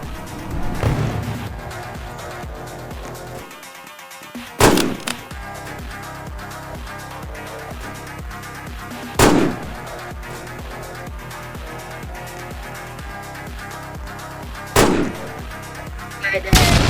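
Three sharp, loud blasts spaced several seconds apart, explosions in the video game Fortnite Roblox, over a continuous game soundtrack and effects bed.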